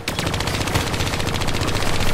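Rapid automatic gunfire from a small gun in the Call of Duty Black Ops 3 video game, a dense, continuous burst of close, loud shots for about two seconds.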